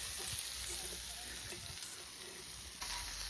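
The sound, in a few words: tandoori chicken sizzling with butter and oil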